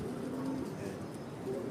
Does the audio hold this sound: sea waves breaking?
no